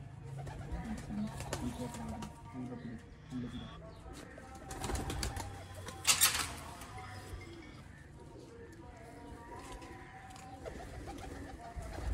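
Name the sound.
pigeons cooing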